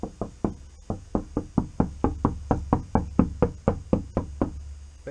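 Knuckles knock on a detached door panel from a 1986 Classic Mini, hung from a thumb, in about eighteen sharp, evenly spaced raps, each with a short resonant ring, loud and close with no talk.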